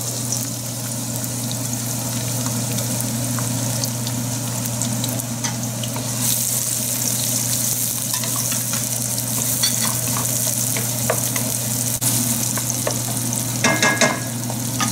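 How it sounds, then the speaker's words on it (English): Chopped onions fry in a pan with a steady, fairly loud sizzle and crackle, with a low hum underneath and scattered clinks of stirring near the end, no talking. "So I'll put the onions to fry first"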